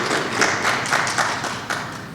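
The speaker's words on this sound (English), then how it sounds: "Maybe you can give them a brief applause because they did really a good job." Brief applause from a conference session audience, a few scattered claps and taps heard at a moderate distance, fading after about two seconds.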